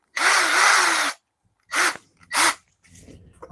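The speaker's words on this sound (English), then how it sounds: "Move back to the stepper bit. Make that hole a little bigger." A step drill bit enlarges a hole to hide screws, giving one long loud grinding burst followed by two shorter bursts close by, with faint handling noise at the end.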